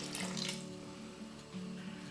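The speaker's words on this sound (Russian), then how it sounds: "немного доливаем кипяченой воды" Boiled water is poured into a pan of meatballs with potato and onion, a quiet, steady splashing trickle close by that swells briefly at the start and again near the end.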